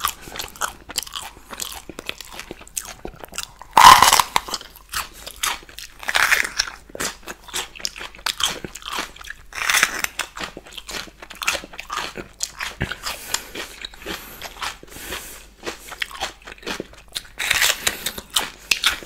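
Crisp bites and chewing of crunchy air-fried potato slices, bell peppers and baked chicken wings, close-miked, with repeated sharp crunches and softer mastication in irregular bursts, no talking.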